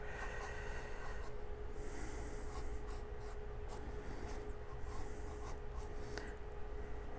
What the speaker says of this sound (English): I'm going to draw other little ones in the corners like this.